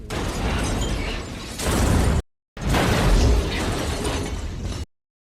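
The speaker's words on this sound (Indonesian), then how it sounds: "menembak ke mobil Brian hingga meledak sebagai peringatan" A car blows up after being shot at in a film scene. A loud, sustained roaring blast fills the clip, then cuts out abruptly and returns briefly as a second dense burst before ending in silence.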